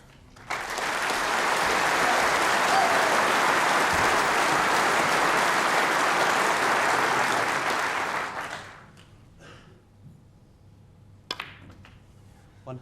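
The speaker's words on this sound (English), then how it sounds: "Wait for the applause for the century." A snooker crowd at the 1992 World Championship final applauds a century break with loud sustained clapping for about eight seconds, which then fades into a quiet hall with a few faint sounds.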